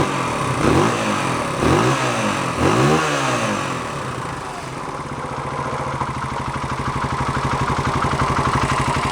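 A 1972 Honda SL 125 motorcycle engine, warming up with its exhaust and an unused, rusty muffler, revs in three rising and falling bursts close by, then settles into a steady, rapid idle.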